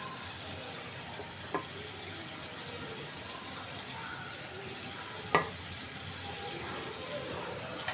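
A spiced curry of dried fish, onion and hot water sizzles steadily in a pan as it is stirred, with two sharp spoon clinks against the pan cutting through the frying noise.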